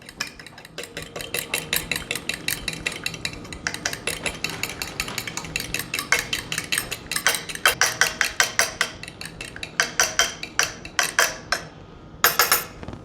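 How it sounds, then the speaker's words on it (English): A fork clatters against a mixing bowl while bread ingredients are stirred together, giving rapid, irregular metallic clicks and scrapes that sit close and fairly loud, with no talking. "Get a fork out and we're going to mix it up."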